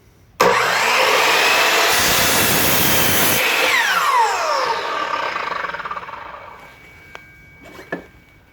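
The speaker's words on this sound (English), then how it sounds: "So here's the first cut." A Ridgid 12-inch dual bevel sliding miter saw cuts through wood: a loud, close motor whine rises sharply, holds through the cut, then spins down over several seconds, followed by a couple of light clicks.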